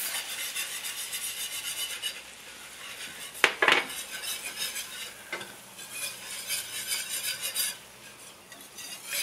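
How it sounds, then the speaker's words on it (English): Flour is whisked into a sauce mixture in a pan, with continuous close scraping and swishing strokes, a louder metallic clank a few seconds in, and rhythmic stirring that carries on without any voices. "And I'm going to whisk it into the mixture."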